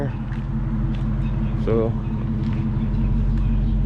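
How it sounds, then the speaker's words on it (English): A Dodge Charger being backed into a shop, a steady low engine idle and rumble at close range, a voice talking briefly over it. "Keith here is pulling my car in, so he's gonna back it in, put it on the lift in there."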